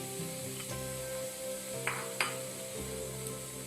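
Gram flour going into warm ghee for besan ladoo, giving a steady low sizzle with a couple of brief scraping stirs partway through.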